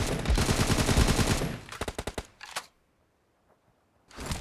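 Bursts of automatic gunfire in PUBG Mobile played on a Redmi 9 Prime, a dense rapid stream for about a second and a half, then a few separate shots, a pause of near silence, and more firing at the end.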